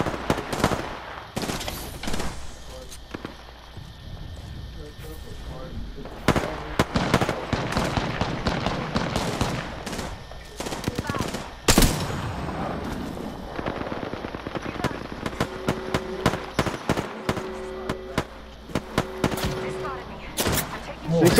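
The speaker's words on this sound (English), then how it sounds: "Opening fire." Rapid bursts of gunfire from the Apex Legends battle royale game, loud and repeated across the whole stretch, mixed with game effects and players talking over the shooting.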